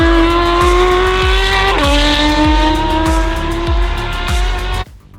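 Porsche race car engine screaming near 9000 rpm, a loud sustained high-pitched wail that drops slightly with a gear change midway, then cuts off abruptly near the end.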